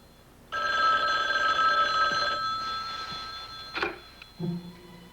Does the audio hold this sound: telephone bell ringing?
yes